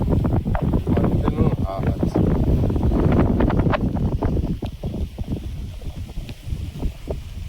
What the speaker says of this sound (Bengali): কেমন হাওয়া আমাদের এখানে,